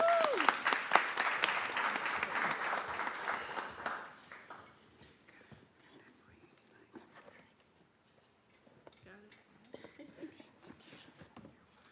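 An audience at an awards ceremony applauds loudly for a few seconds, then the clapping thins out to scattered claps that trail off.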